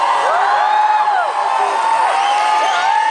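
Concert crowd at a show in São Paulo cheering and whooping for the security staff, a dense, loud, sustained roar of many voices with high screams sliding over it.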